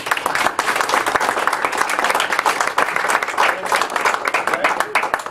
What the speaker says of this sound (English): Let's give him a real hand of applause.